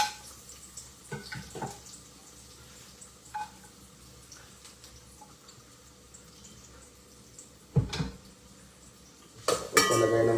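Onions being stirred in a pan for Diwata-style pares, heard as sparse scraping and clinking of a utensil against the pan, with a few louder clatters near the end; no sizzle stands out and no one talks.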